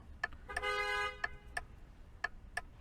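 A car horn in a driving simulator game sounds one sustained honk, followed by several short, sharp beeps spaced irregularly over quiet background.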